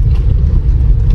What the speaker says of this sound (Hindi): जहाँ गाड़ी अपने आप चलता है।